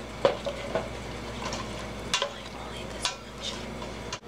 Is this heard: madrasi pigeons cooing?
no